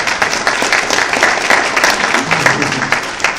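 Loud, sustained applause from a crowd, dense clapping with no pauses.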